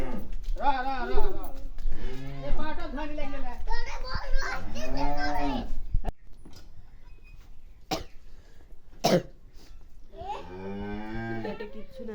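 Cattle, including a bull, moo loudly several times, long drawn-out lowing calls with pauses, while people talk quietly and a few short knocks sound in the background.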